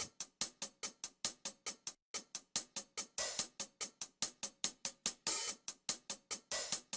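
A drum machine hi-hat loop plays fast, even sixteenth-note ticks, loud and dry, with occasional longer open hiss accents and a brief gap near the two-second mark.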